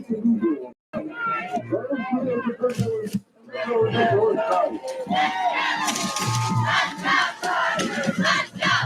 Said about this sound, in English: Excellent work by the Chargers cheer squad, bringing the energy tonight.